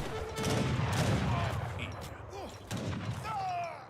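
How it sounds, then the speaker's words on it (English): War wagons fire in an Age of Empires match, a dense fusillade of overlapping gunshots with thuds and battle noise, mid-distance and steady throughout. "The war wagon is doing a lot of sniping."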